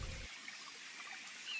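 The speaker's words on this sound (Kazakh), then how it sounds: "үстіне ыстық суды құямыз." Hot water being poured into pancake batter, heard as a soft, steady trickle of liquid that runs close and faint for a moment after a brief low thump.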